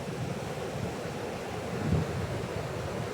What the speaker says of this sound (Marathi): 1 नंबर हवा सुटली भावनं. हे बघा तुम्हाला दाखवते. हे बघा लाटा